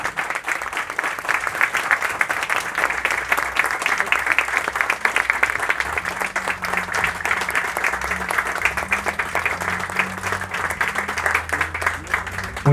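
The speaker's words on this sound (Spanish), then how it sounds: "Vamos a brindarle el fuerte aplauso a cada uno de nuestros adultos mayores beneficiarios." Steady applause from an audience honouring elderly beneficiaries at the opening of a day care centre, continuous dense clapping throughout with a low hum joining partway through.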